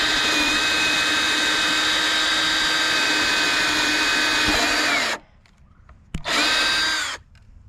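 A loud power drill whines steadily for several seconds, cuts out, then runs briefly once more before stopping.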